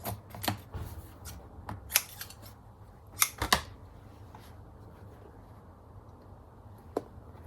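Scissors snip through old linen fabric being trimmed from a vintage quilt block, a few sharp clustered cuts near the start and middle, then a lone snip later, close and fairly quiet.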